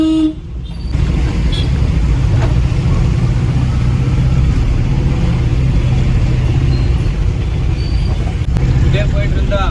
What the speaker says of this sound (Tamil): செம்ம டிராஃபிக்காக இருக்குது